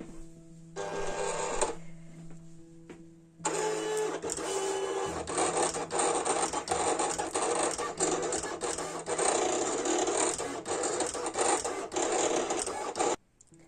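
A Silhouette Cameo cutting machine working through a drawn design on a sheet, a brief start then a long continuous motor whir with rapid carriage clicks and rasping, steady and close.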